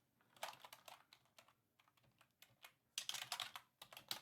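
Bursts of quick, crisp keystrokes clatter on a computer keyboard, close and fairly quiet, in two busy flurries with sparse taps between and no voices.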